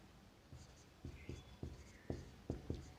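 Marker or chalk writing on a board in a Class 12 physics lesson on the meter bridge: a series of distinct, fairly faint taps and short strokes in uneven rhythm, close by, with no talking.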